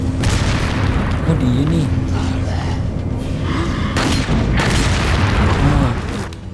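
Heavy bomb blasts boom repeatedly in the Resident Evil 4 video game, loud and dense with rumbling low-end bursts, while a person talks excitedly over them.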